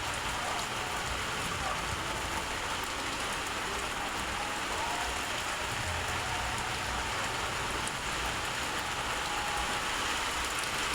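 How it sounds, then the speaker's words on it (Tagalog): Heavy rain pours steadily outside a house, a dense continuous hiss of drops drumming on surfaces, fairly distant and even throughout with no voices. "Malakas na yung ulan."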